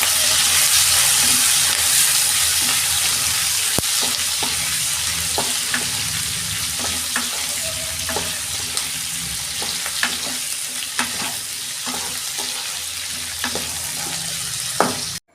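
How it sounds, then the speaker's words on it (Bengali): Onion, capsicum and green chilli frying in leftover pakora oil, a continuous loud sizzle with regular scraping stirs and clicks of a spoon on the pan throughout, close and with no talk. "এই পকোড়ার তেলেতেই আমি এইগুলো ভেজে দিচ্ছি। পেঁয়াজ, ক্যাপসিকাম আর কাঁচা লঙ্কা।"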